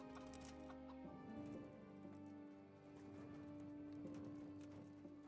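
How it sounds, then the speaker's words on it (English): Horse hooves clopping in Kingdom Come: Deliverance, a soft steady patter running under a sustained tonal game soundscape with music-like drones throughout. "That's my horse."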